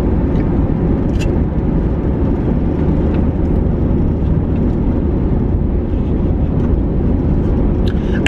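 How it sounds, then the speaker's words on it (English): Inside a moving car, a loud, constant road and engine rumble fills the cabin, with faint rattles and ticks from loose parts scattered through it and no talking. "I feel like everything is rattling in this car."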